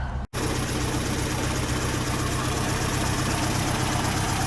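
A warm Ford Cortina 1600E engine idling steadily, a close, continuous low rumble after a brief gap at the start, with faint background voices.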